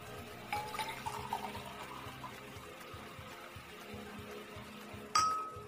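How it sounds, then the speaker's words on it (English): Water is poured from a wine glass into a short mug glass, a light trickle and splash with small glassy clinks, close and fairly quiet, with no talking. "this is a wine glass and it's full of water. Let's transfer it to the short mug glass."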